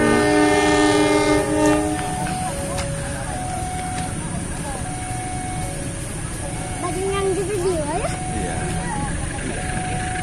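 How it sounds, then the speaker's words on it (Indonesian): The Serayu passenger train rumbles past with a continuous rolling roar, a horn sounding at the start and squealing wheels rising later, with voices talking underneath. "Kereta Serayu."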